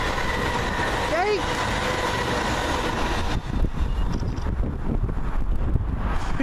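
A passenger train passes at Cardonald heading toward Glasgow: a loud, close, continuous rail rumble with a brief rising tonal squeal near the start, rougher wheel-and-carriage clatter later, and wind buffeting and a voice faintly mixed in.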